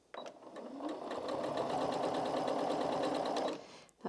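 A Janome MC 6700p sewing machine runs in a short, close burst of rapid even stitching as it brings the bobbin thread up, starting and stopping cleanly.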